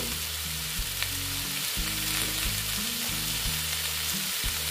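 Squash and potato sautéing in a pan with ground cumin, coriander and chilli powder, a steady close sizzle with a low stirring hum running throughout, no voices.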